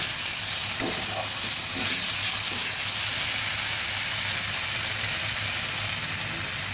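A spice paste fries in a pan with a splash of water and three slit green chilies, giving a steady close sizzle and hiss with a few faint stirring scrapes near the start and no voices.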